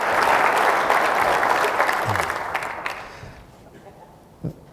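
An audience at an annual public assembly applauds loudly and steadily. The clapping then tapers off over a few seconds into quiet room noise.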